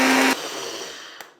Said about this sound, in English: I'm just gonna blend it one more time.